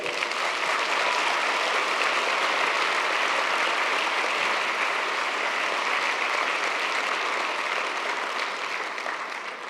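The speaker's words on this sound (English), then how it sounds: "a huge round of applause again for Mohammed Sidibé" Sustained applause from a large audience at a conference opening plenary in Dubai, steady and dense throughout, tapering slightly at the end, with no voices over it.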